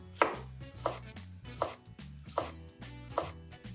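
A knife chopping a red onion on a board, five evenly spaced sharp chops about three quarters of a second apart, close and clear with no talking.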